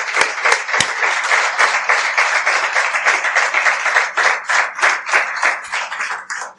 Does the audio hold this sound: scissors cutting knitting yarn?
no